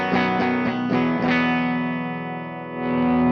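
Guitar played through a Two notes Genome on a TITAN amp model's clean channel with no boost: a few picked notes and a sustained chord ringing out with full harmonics, steady and close, no talking.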